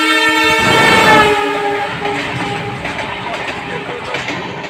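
An Indian Railways train arrives at a station, sounding a loud, sustained horn blast that fades after about a second into the heavy rolling rumble and clatter of the wagons passing close by.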